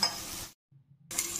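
Garlic paste sautés in a pan for egg curry, sizzling and scraping close, broken by a half-second silent gap before the frying noise returns.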